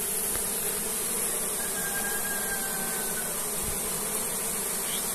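Honeybees buzz steadily over open hive frames in a colony whose queen is being replaced after it turned drone-laying; a dense, continuous hum fills the whole stretch at an even level, with no voices.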